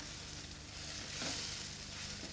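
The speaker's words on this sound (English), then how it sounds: "I'm going to add the juice of the tomato. Give that a stir." Tomato juice is stirred into a parsley sauce in a hot pan, giving a steady soft sizzle throughout with a brief stirring scrape around the middle, close and moderately quiet with no talking.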